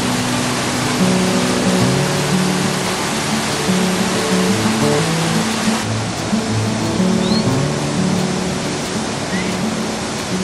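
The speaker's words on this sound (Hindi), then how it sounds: "यहाँ ये जो नदी आप देख रहे हैं, ये काली नदी है" Rushing water of the Kali river along a dangerous Himalayan route on the Adi Kailash pilgrimage, a steady loud broadband roar filling the whole clip with no talk over it.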